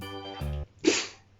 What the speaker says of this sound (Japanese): 止まんないのくしゃみ。